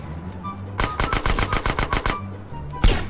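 Rapid burst of about a dozen loud, close gunshots in GTA firing in an even rhythm, followed by one more single shot after a short pause.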